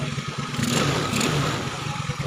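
A 130cc Honda Scoopy scooter with a 28mm carburetor idles and revs steadily nearby, a smooth continuous engine hum with slight mechanical clatter and a mild rise in throttle partway through.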